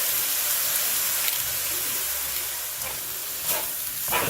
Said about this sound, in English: Just put the butter underneath so it can melt